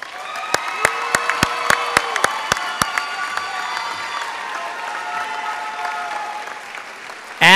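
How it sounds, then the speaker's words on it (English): A graduation ceremony audience breaks into loud applause and cheering, with sharp bell-like strikes ringing out in a rhythmic series early on, then sustained clapping and crowd noise fading before a sudden loud burst at the end. "Please give yourselves a round of applause"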